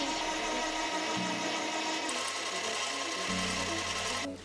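A lathe faces and hogs out 25mm stainless steel bar stock, a steady mechanical whir whose pitch shifts as the cut changes, ending with an abrupt stop.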